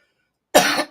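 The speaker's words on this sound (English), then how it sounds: "Excuse me for coughing." A single short, harsh cough close to the microphone after a moment of silence.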